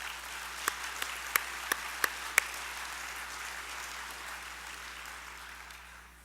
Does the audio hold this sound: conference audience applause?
yes